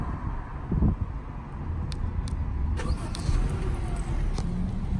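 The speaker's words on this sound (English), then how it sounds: "I'm going to go ahead and remote start it." A Honda Civic engine starts by remote start and settles into a low, steady idle, heard from outside amid wind and faint background noise, with a few brief clicks.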